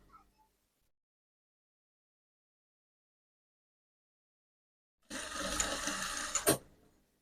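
A sewing machine stitches along a pleated white garment, a brief steady mechanical run of about a second and a half that ends in a couple of sharper clicks after a long stretch of near silence.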